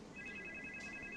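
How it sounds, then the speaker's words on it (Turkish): A telephone rings steadily with a bright electronic trill, faint and slightly distant, in a quiet room with no talking. "Hayırdır, telefon çaldı."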